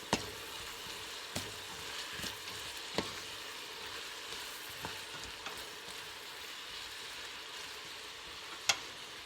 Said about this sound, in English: I'm going to mix that to combine it with the onions.